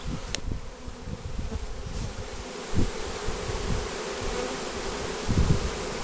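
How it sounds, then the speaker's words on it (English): Dense buzzing of a honeybee swarm fills the air, a steady drone with occasional louder passes as individual bees fly close by. "There's a lot of bees in there."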